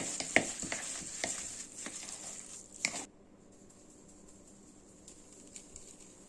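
Syrniki batter of cottage cheese and sugar being stirred in a bowl, with soft, close scraping strokes for about three seconds before it falls nearly silent.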